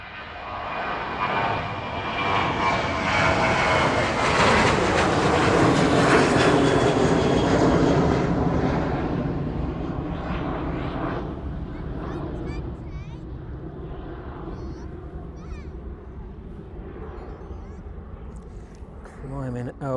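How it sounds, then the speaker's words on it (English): A Spitfire and a Jet2 airliner take off and climb away from East Midlands Airport in the evening, a loud engine roar that swells to a peak and then slowly fades into the distance, with a voice talking over it. "There it goes then, the Spitfire and that Jet2 service making its way towards us."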